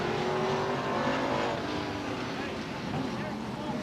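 Stock cars race on the oval at Star Speedway, a dense roar of engines coming off turn four, with a commentator talking over the noise.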